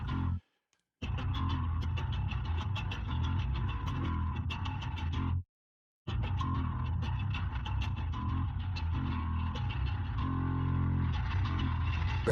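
Isolated bass guitar track from a metal song, a raw distorted low-end line with fast picked notes, loud and alone, with two short silent gaps.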